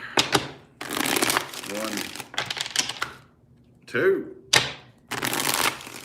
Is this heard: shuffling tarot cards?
yes